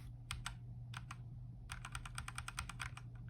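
Keys pressed on an RK61 Pro 60% mechanical keyboard, a few separate clicks followed by a quick rhythmic burst of crisp taps, close and clear with no talking.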